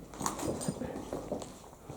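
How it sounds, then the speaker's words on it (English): Dogs bark outside an abandoned asylum, a string of repeated, fairly distant barks in an uneven rhythm over open outdoor ambience. "Listen, them dogs."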